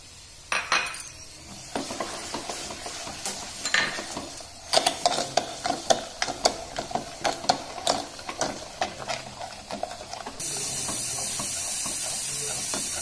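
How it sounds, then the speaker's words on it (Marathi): A spoon clatters and scrapes again and again against a pot while pumpkin kheer with sugar is stirred. The knocks are close and uneven, and a steady hiss takes over near the end. "असं ढवळत राहायचं आहे आपल्याला"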